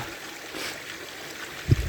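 Clear mountain spring water runs in a steady, soft trickle, filtered through plant roots on a hillside near Rudranath in Uttarakhand. Alone and fairly quiet, with a brief low thump near the end.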